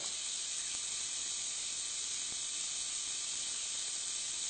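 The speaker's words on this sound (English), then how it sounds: "let it just keep boiling" Water boils in a pot with an iPhone 6S submerged in it, giving a steady, even hiss with no voices.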